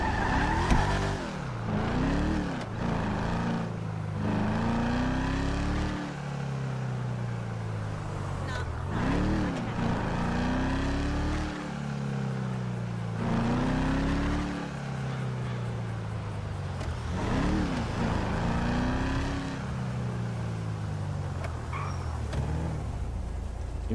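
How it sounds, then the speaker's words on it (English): A car drives past in GTA V with the LSPDFR police mod, engine revving and rising and falling in pitch repeatedly, with tire squeal over steady traffic noise and a voice talking now and then. "There goes a Palito Bay vehicle going there."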